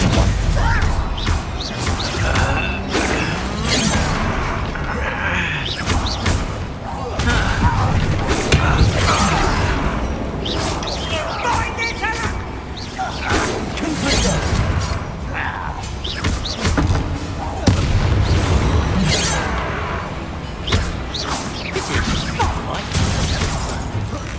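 Blasting spells in the Hogwarts Legacy video game go off in a dense run of crashes, thuds and booms during a busy fight, a constant loud clatter with voices talking throughout.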